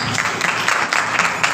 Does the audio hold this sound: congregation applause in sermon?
yes